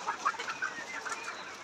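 Ready 100-day-old layer pullets on a farm, weighing about 1300 grams, cluck softly in short, uneven bursts at a moderate distance over a faint background hum.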